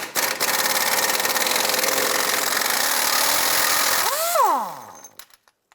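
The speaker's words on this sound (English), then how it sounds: "Using a 15/16 deep socket, we're going to go ahead and remove this nut." A power impact gun drives a 15/16 deep socket off the nut on a rear shock of a 2001-2007 Ford Escape, a loud continuous whirring hammer for about four seconds that then winds down with a falling pitch and stops.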